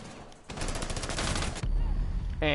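Bursts of rapid automatic gunfire from the Rainbow Six Siege video game, including SMG full-auto fire: a dense, loud volley for about a second, then further sharp shots, heard on their own without talk.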